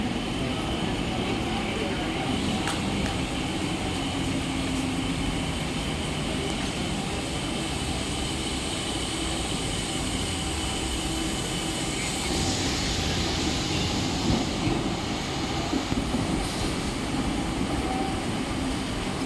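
Mumbai local train at night, the 8:50 slow service to Kalyan pulling into platform 1: a loud, continuous rumble and roar of wheels and carriages that holds steady throughout, close by.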